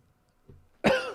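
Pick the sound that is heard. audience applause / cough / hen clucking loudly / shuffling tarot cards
cough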